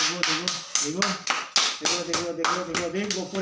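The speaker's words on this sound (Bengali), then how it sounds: "হাততালি মারো হাততালি মারো হাততালি মারো হাততালি মারো" Hands clap in a steady, quick rhythm during a playful bottle game, close and loud, with voices chanting along over the beat.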